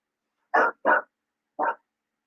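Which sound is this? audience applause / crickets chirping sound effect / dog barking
dog barking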